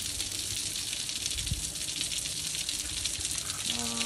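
Water from a water tower tank gushing through a half-open shower valve, a steady broadband rush close by, constant throughout with a faint tonal whine near the end.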